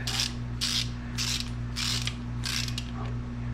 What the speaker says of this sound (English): I'm going to run them up evenly first until they snug